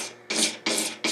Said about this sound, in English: I'm going to start with my razor blade